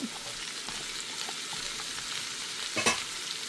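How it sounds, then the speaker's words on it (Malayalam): Chopped bell pepper and onion stir-frying uncovered in oil in a home kitchen, a soft steady sizzle with faint stirring, close but quiet, ending in a brief louder scrape. "ഞാൻ ഇനി ഇത് പിന്നെ അടയ്ക്കാതെ തന്നെ നമുക്ക് നിരത്തിയിട്ട് തന്നെ വേവിച്ചെടുക്കാം"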